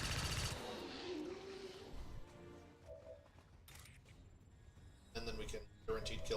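A pistol fires once in XCOM 2, a short sharp crack at the start, followed by quieter game effects and softer bursts.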